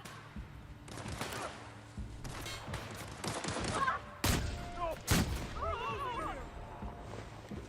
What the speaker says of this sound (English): Shotgun putting in work.